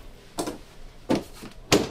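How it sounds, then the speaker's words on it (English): A door closing indoors, three separate knocking thuds spaced about two-thirds of a second apart, close and fairly loud against a quiet room. "Just all my videos closing the door."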